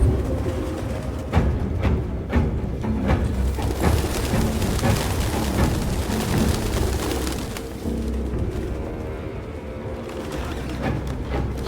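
Pigeons cooing in the video game Detroit: Become Human, a loud, steady flutter of bird calls layered over dense game ambience for the whole stretch.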